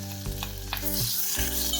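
Potatoes and green chillies hit hot oil seasoned with mustard seeds and asafoetida in a pan, giving a steady close sizzle with a few sharp bursts and crackles as the pieces go in.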